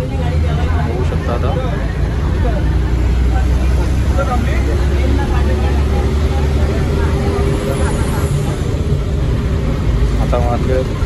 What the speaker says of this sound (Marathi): आता गाडी निघालेली आहे